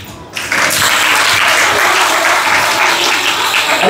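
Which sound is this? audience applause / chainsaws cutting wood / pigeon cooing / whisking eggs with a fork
audience applause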